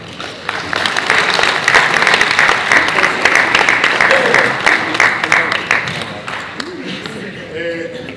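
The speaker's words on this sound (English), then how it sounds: "Let's give the Gauteng colleague another big round of applause" Sustained audience applause at the 5th Annual E-Learning Summit 2024, steady dense clapping for several seconds before thinning out, with some voices mixed in near the end.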